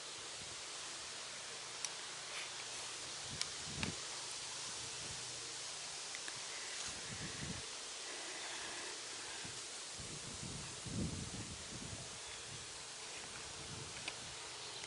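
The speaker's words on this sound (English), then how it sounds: "of course you can hear the wind, so it's breezy out" Breezy wind moves through a perennial cottage garden on a warm day, a steady soft rushing with gentle leaf rustle and occasional louder gusts, all close and low-level with no talking.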